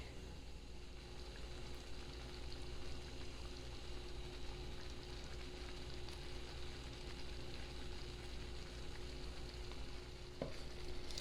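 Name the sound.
stirring sausage gravy in a pan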